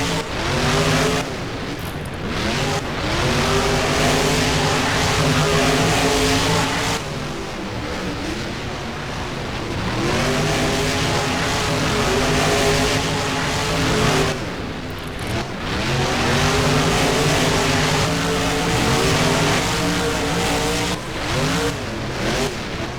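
Simulated monster trucks Enforcer and El Toro Loco race in BeamNG, engines roaring loud and continuous with repeated revving rises and falls as they shift and turn, a brief tire squeal mixed in.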